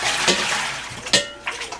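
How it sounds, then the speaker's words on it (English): Lemon-tinged water is tipped out of a mixing bowl while preparing apples for a pie, heard as a few short splashing gushes with clinks of the bowl, close and moderately loud over a steady hiss of running water. "Discard the water."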